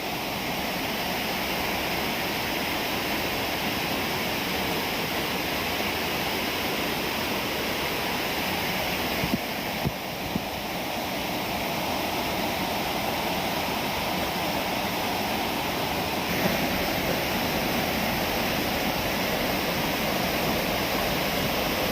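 Rain-swollen floodwater rushes over a forest dam in Odisha, a dense, unbroken roar that stays loud and even from start to finish.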